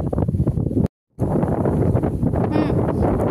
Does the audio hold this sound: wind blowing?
yes